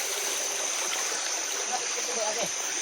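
Creek water flowing steadily nearby, a continuous broadband rush with faint trickles and splashes, loud and unbroken throughout.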